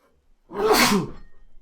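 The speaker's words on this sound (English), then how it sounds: "I gotta sneeze though." A single loud sneeze bursts out close up after a brief quiet intake of breath.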